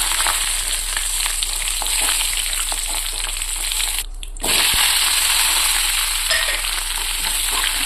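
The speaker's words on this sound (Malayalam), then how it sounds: "നമ്മൾ കട്ട് വെച്ച തക്കാളിയും സവാളയും ചേർത്ത് കൊടുക്കാം" Chopped tomatoes and onions fry in a hot pan in a home kitchen, giving a loud, steady sizzle with crackles throughout, cut by a brief moment of near silence midway.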